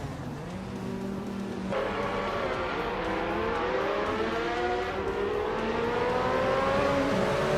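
A 1993 Ford Mondeo racing in a video game, engine revving and climbing steadily in pitch as it accelerates, with other cars droning alongside, loud and continuous without talk.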